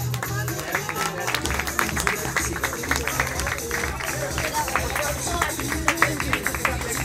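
Wedding reception guests applaud the arriving wedding party, dense sustained clapping with crowd murmur and some voices mixed in, steady and fairly loud throughout.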